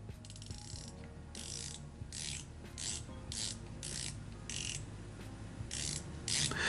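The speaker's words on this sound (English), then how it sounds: "let's listen to the bezel action first, because the bezel action is actually very good on this watch" The steel bezel of a Hemel Sea Dart automatic 300m diver watch is turned in short bursts, each a close, crisp run of rapid ratcheting clicks separated by brief pauses, with no talk.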